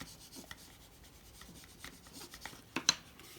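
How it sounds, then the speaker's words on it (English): Folded paper matchbox flap being burnished, soft close rubbing strokes ending in two sharper scrapes, quiet and without talking. "fold the flap in and over. And give that a burnish."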